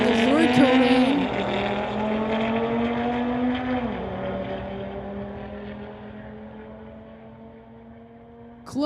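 A 2019 Audi TT drag racing down a strip launches loudly, its engine revving up through rising harmonics with gear shifts near one and four seconds, then droning steadily and fading as it pulls away, with a sharp burst at the very end.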